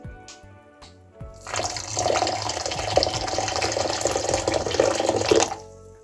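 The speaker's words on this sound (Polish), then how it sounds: "wlewamy 200 ml gorącej wody" Steady pouring of 200 ml of hot water into a bowl of lemon jelly powder, a continuous splashing rush lasting a few seconds after a couple of light clinks, then stopping.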